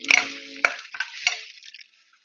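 Food frying in a pan is stirred in a few quick scraping strokes over a soft sizzle, with sharp clinks as the utensil knocks the pan. It fades out after about two seconds.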